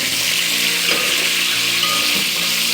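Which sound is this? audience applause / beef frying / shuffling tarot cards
beef frying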